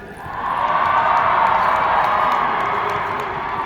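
A large audience at the CES 2025 keynote at the Sphere in Las Vegas breaks into cheering and applause that swells quickly, holds as a broad roar of many voices and hands, then eases slightly, with no speech over it.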